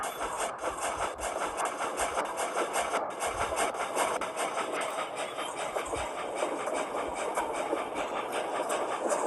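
A Union Pacific Big Boy steam locomotive in the Trainz 2 railway simulator slips its driving wheels, giving a steady mechanical chuffing and rumbling drone that runs continuously and moderately loud, with no talking.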